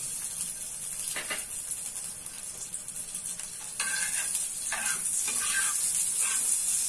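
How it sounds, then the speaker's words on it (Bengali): Prawn and pumpkin koftas shallow-frying in ghee, a bright continuous sizzle that swells louder midway, with occasional bubbling crackles and no speech. "এবার আমি কোপ্তার আকারে এটা ঘি দিয়ে ভেজে ফেলবো।"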